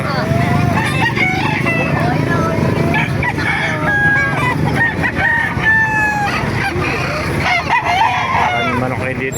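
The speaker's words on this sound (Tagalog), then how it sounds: "Maraming manok kayo dito, napakamura ng manok o." Several roosters crow repeatedly at a busy chicken market in Calumpit, Bulacan, their calls overlapping near and far amid clucking and a steady crowd murmur, with people talking throughout.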